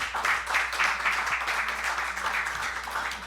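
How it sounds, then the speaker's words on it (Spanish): Audience at a book presentation claps for a guest, a steady, moderately loud patter of many hands from a room full of people, sustained throughout with no voices on top. "Un aplauso, por favor, para Miriam"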